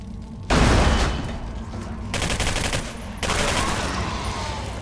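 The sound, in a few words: Valkyrie automatic rifle firing full auto in the video game Singularity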